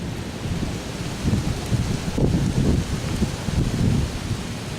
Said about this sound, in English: So it is a bit windy.